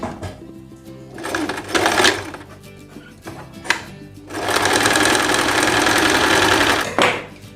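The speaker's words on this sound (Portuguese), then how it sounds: "Para franzir, eu usei a minha sapatilha normal de costura reta, coloquei a minha tensão da máquina no maior ponto e a largura também no maior ponto." Sewing machine running a straight stitch set to maximum tension and maximum stitch length to gather a fabric strip, in short bursts early on and then one long steady run, close and loud.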